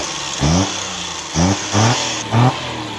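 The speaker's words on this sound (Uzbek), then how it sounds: "Og'ayni bitta yurgizib qo'yasin mashinani." A carburetor car engine fires up and revs in three short, loud bursts, each dropping back to a rough idle between them, heard close by.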